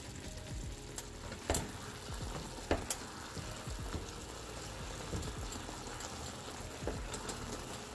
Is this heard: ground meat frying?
yes